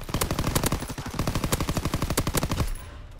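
An anti-aircraft gun in a video game fires a fast, loud stream of evenly spaced shots for about two and a half seconds, then cuts off, leaving a faint tail of ambience.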